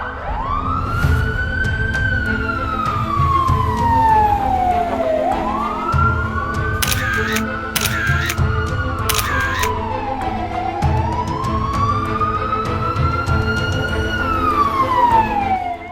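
Fire engine sirens wail through the town of Brody during a large fire. Loud, slow rising and falling tones sound close by, with short bursts of higher tone and a heavy truck rumble underneath.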